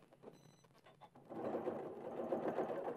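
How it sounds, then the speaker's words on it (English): Sewing machine stitching a Y seam in quilt fabric, starting with a few slow, separate needle clicks, then settling into a steady, fast whirring run that stays close and moderately loud. "I like to do the tacking stitches on my Y seams and then sew."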